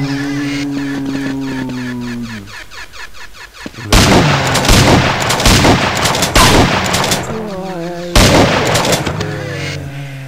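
Grenade blasts go off in the zombie shooter Half-Life: They Hunger, with two loud broadband booms and rumbling debris following an earlier stretch of tonal game sound.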